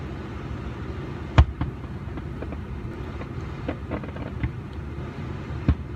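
Fourth of July fireworks bursting at night, heard from far away as two faint, sharp booms separated by a few seconds over a low steady background rumble.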